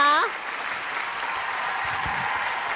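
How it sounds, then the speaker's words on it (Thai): Applause from an audience at an evening Amway diamond-level business award ceremony in a banquet hall, a steady, even wash of clapping that starts just after a voice cuts off and carries on at moderate volume to the end. "รับเสียงปรบมือนิดนึงนะคะ"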